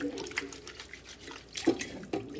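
Water runs from a tap into a bowl of chickpeas for rinsing, a soft, steady splashing pour at close range with a couple of brief louder gushes.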